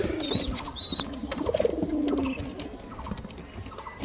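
Local pigeons in a loft give low, throaty coos, one drawn-out call standing out amid a soft chorus of cooing and faint chirps nearby.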